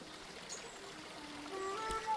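Tea pours into a cup in the video game Eastshade, a soft, faint trickling stream lasting about two seconds.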